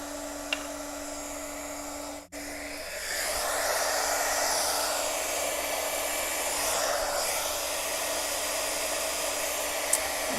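A heat embossing tool blows hot air over detail embossing powder on a watercolor Valentine's craft card, a steady broadband whoosh that starts about two seconds in and runs loud and unbroken to the end.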